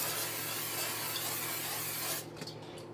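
Cooking spray hisses steadily onto a round baking dish for about two seconds, a close, continuous spray that stops abruptly, followed by a faint clink.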